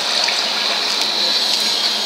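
Flowing water placed in Minecraft Pocket Edition, a steady continuous rushing gush that stays even and unbroken throughout, heard alone with no talk over it.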